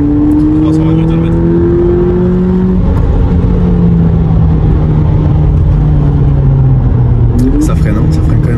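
A stock 200 hp VW Polo GTI pulls hard up a mountain road using paddle shifts, its engine note climbing loudly and steadily with a gear change near the end, while occupants talk over the cabin rumble.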